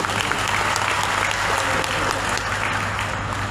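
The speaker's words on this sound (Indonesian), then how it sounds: "Tepuk tangan." Dense, steady applause from a crowd at a political rally of a people's movement in Central Java, loud and continuous throughout without letting up.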